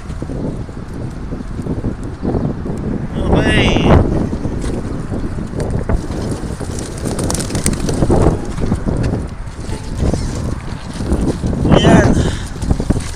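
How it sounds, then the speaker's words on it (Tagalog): Strong wind buffets the microphone in a steady roar with gusts swelling around four and twelve seconds, outdoors where birds are being released, while a voice speaks briefly over it. "Napakalakas ng hangin."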